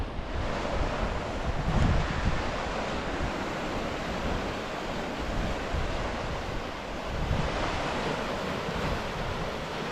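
Waves wash steadily into Chapmans Pool, a rocky cove on the Purbeck coast, under constant gusting wind, a continuous surf roar that swells and eases with no voices.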